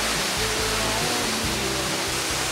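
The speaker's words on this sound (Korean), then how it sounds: "가슴속 뻥 뚫어주는 맑은 폭포수" A mountain waterfall on the road into a Korean mountain village roars steadily, a dense, continuous rush of clear falling water close by with a low rumble beneath.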